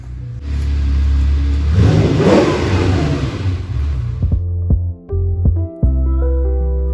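A 1986 Porsche 911 Targa, an abandoned storage find, revs its engine loudly for several seconds with a rising roar, then settles into a steady idle broken by two brief dips.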